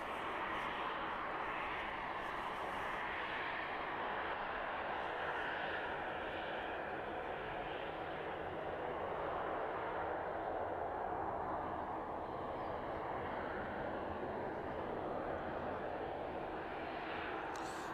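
An airliner on a flight from Wrocław comes in to land at East Midlands, a steady broad roar of jet engines holding throughout at moderate distance, with faint wind and background noise.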